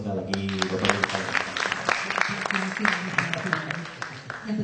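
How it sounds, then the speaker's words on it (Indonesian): An audience claps at an automotive awards ceremony, a dense patter of many hands sustained throughout at moderate level, with a voice talking over it. "Tepuk tangannya juga boleh sekali lagi Bapak Ibu."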